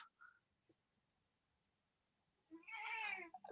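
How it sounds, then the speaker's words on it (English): A single drawn-out cat meow, fairly close and clear, follows a few seconds of near silence with a couple of faint small noises. "That was my cat, not Scarlet."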